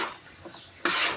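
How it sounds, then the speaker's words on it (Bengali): Spices and turmeric stirred in a cooking pan, one short scrape of a spoon against the pan followed by a louder rasping stir, close up. "এই যে নেড়ে চেড়ে দিচ্ছি।"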